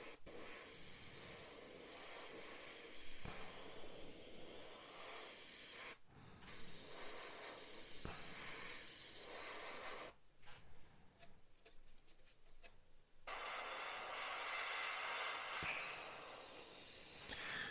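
Continuous airbrush hiss spraying splinter camouflage paint onto a Revell 1/32 He111 bomber model, close and steady, broken by two short pauses where the airflow stops.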